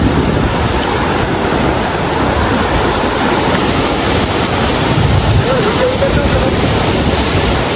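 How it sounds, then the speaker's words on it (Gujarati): Water pours over a weir in a continuous loud roaring rush, with broad, even turbulence and some wind buffeting heard close up outdoors. "અહીં તો પાણી કેવું જાય છે મસ્ત"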